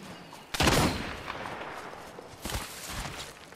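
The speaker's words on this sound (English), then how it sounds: "Opening fire." Gunfire in the shooter game Apex Legends on the World's Edge map, two loud bursts of rapid shots, one near the start and another a couple of seconds later, with quieter rattling between.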